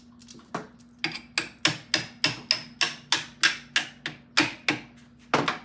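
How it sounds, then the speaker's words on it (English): Steady metallic hammer blows drive a big drift punch through a part on a vintage British motorcycle, about fourteen sharp ringing strikes at an even pace, close and clear with no talk. "Now I'll put the big drift through."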